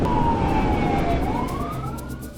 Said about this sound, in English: flipping on the rumbler siren, a deep, chest-thumping tone designed to shake drivers into awareness.